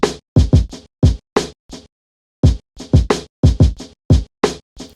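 A drum loop in Ableton Live with kick, snare and hi-hats plays a busy, dry pattern of tight hits, a short pause partway through, then the groove resumes, loud and close.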